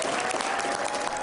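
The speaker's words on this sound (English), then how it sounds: "Supporters applaud Washington Governor Jay Inslee as he signs House Bill 1638 into law" Supporters applauding as Washington Governor Jay Inslee signs House Bill 1638, a measles vaccine exemption bill, into law; dense, loud, continuous clapping from a crowd indoors.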